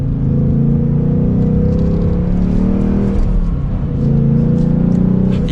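A 2022 Ford Mustang GT coupe with a six-speed manual, braking and downshifting into second gear for a turn: loud, steady engine and exhaust drone that dips briefly as revs fall, then holds again.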